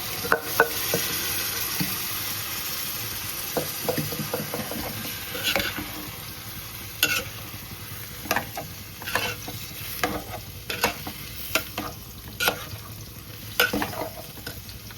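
Peas and potatoes seasoned with salt, masala, turmeric and garam masala fry in a pan as a spatula stirs them, making quiet, irregular scraping clicks over a soft, continuous sizzle.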